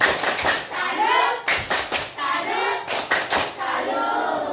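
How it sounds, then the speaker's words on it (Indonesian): Children in a Grade 6 primary classroom clap a rhythmic 'tepuk salut' cheer, bursts of sharp hand claps in patterned groups mixed with children's voices, loud and close. "Oke, kita kasih tepuk salut dulu buat kelompok 4. Tepuk salut."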